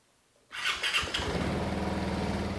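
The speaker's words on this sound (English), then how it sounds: "grab a brake on either side and hold that as you press the electric start, and the scooter will fire right up" A Piaggio Liberty 150 scooter fires up on its electric start, with a brief starter whir followed by the engine catching and settling into a steady close idle, no voices.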